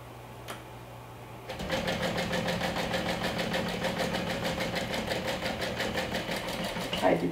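A sewing machine starts after a short pause and top stitches close to a fold in a fabric pocket, running in a fast, even, rhythmic chatter for several seconds at close range.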